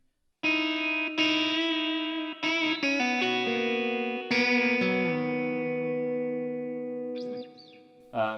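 Guitar chords ringing out through a huge plate reverb pedal setting, each strum blooming into a long shimmering wash that slowly decays, with a brief pitch-sliding tail near the end.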